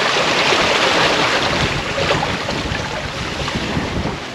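A strong wind of about 25 knots blows over a sailboat at sea off Sardinia's coast, a loud, steady roar of wind buffeting the microphone with wave wash underneath and no talking.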